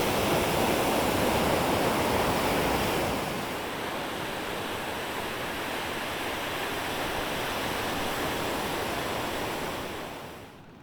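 Sea surf rolling onto a misty, overcast beach at Trujillo, Peru, a steady broad wash of breaking waves that eases slightly after a few seconds and carries on continuously with no voices.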